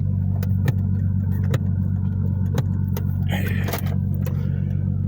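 A 4x4 off-road vehicle engine labours steadily up loose ground in Cochise County, a constant low rumble with light rattles and a brief scrabbling burst near the end.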